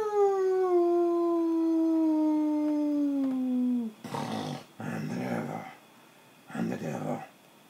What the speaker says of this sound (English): You go back to your cage and you howl at the moon.